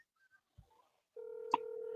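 A phone dialing a call: a short burst of touch-tone keypad beeps followed by a steady, clear tone as the line connects, heard alone and close with no talking.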